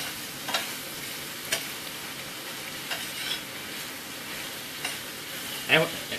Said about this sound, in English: let me stir my fried cabbage again